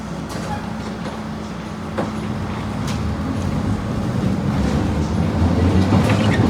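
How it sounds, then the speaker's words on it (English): A Rome Giardinetti line train pulls out of Termini station, a steady rumbling roll of wheels and motor that slowly builds in loudness, with a few faint clanks from the carriage. "Here I am leaving Termini on one of the iconic Rome Gardinetti line trains"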